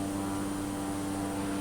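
A steady, droning propeller airplane engine hums from a flight simulator during a Tasmanian bush trip from Bruny Island to Triabunna, holding a constant tone with no talk.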